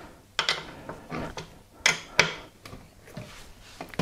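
Bolts on a budget gaming chair are tightened with a hand tool in a crosswise pattern, producing a close series of sharp clicks and ratcheting mechanical snaps, with soft rustles and taps between them.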